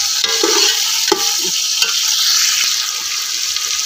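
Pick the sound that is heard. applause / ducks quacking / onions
onions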